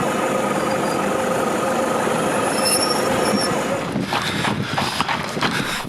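A very long iron ore freight train rolls through the Mauritanian desert, its wagons rumbling steadily with high metallic wheel squeals, close and loud throughout, with a scattering of clanks near the end.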